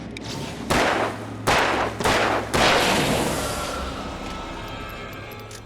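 Four heavy gunshots in the video game Alan Wake, loud booming reports spaced about a second apart, each leaving a long reverberant tail that fades over a low droning background.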